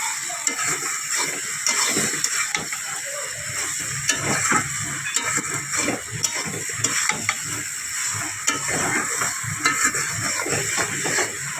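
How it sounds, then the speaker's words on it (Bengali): Vegetables sizzle and fry in a pan with turmeric and chili powder while being stirred, a steady hiss broken by frequent scraping strokes of the spoon. "এখন হলুদ মরিচ একসাথে সবজিটার সাথে কষায় নেব।"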